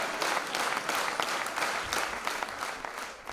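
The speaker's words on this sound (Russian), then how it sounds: "Зрители встречают актеров стоя. Несмолкаемые овации, крики «Браво!»" A theatre audience rises for a standing ovation at the close of a premiere performance, with dense, continuous applause at steady loudness throughout and no speech.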